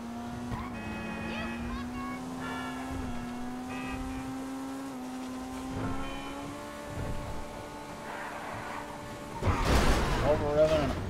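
The Maibatsu Penumbra FF car in GTA Online holds a loud, high engine drone that climbs slowly in pitch as it revs hard at speed. Someone talks over it, and near the end there is a burst of tire and impact noise.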